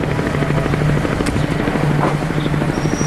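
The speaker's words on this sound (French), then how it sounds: "Là encore, des hélicoptères américains sont de la partie." American military helicopters fly overhead during a war deployment. The rotors give a loud, continuous, steady thumping that fills the whole stretch with no pauses.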